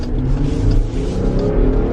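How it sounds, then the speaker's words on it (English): A 2020 Jeep Grand Cherokee Overland High Altitude in sport mode gives a steady, close engine and exhaust drone under acceleration, low and continuous with no talk. "The exhaust notes have changed."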